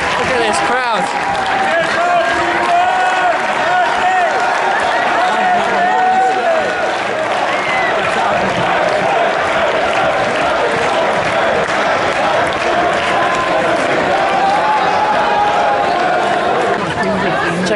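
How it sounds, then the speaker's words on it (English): Large crowd at the World Ping Pong Championships 2017 fills a table tennis arena with constant loud chatter, cheering and scattered clapping, steady for the full length and heard alone without close speech. "Look at this crowd."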